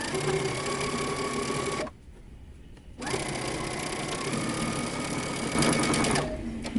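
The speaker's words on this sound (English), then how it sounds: "now we're going to stitch close to the edge, and we're going to leave a 1 inch opening again so we can insert our elastic" A sewing machine runs steadily while stitching close to the edge of a T-shirt neckline, leaving an opening for elastic. The loud, continuous motor hum stops for about a second, then the machine resumes at a slightly faster pace.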